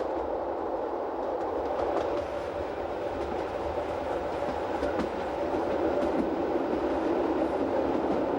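A passenger train on the Rhaetian Railway Engadine line in Switzerland rolls steadily along single track, its wheels clattering in a constant rhythmic rumble at moderate distance, with no talking.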